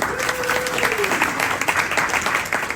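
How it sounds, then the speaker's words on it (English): An audience at a morning business gathering applauds a speaker named Bruce, dense clapping that fills the room at steady volume, with a brief tonal squeal near the start. "let's give Bruce a round of applause."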